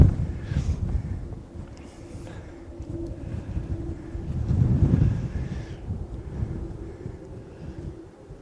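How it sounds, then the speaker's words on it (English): Wind gusts across an open hiking trail near Lower Shelf Stones, buffeting the microphone in a steady low rumble that swells and eases, loudest midway through, with no talking. "Thankfully we've got this wind"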